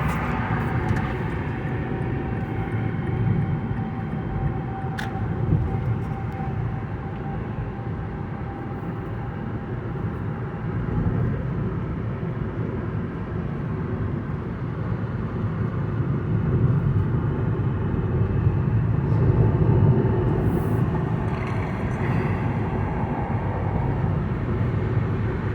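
A 2009 Mazda 5 with a newly installed transmission control module accelerates toward highway speed, heard from inside as a steady low engine and road rumble that builds gradually, with faint wind noise and no clear talking.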